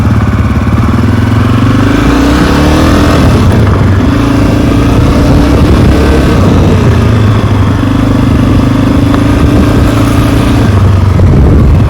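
A Honda CRF250F dirt bike engine putters steadily through a neighborhood ride, loud and close with a constant drone and mild rises in revs, no voices.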